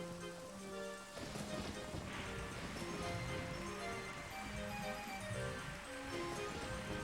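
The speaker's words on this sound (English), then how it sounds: "a storm that is pouring down rain is causing the well to drain" Heavy rainstorm in The Legend of Zelda: Ocarina of Time pours down in a steady wash, mixed with game music tones and sounds throughout.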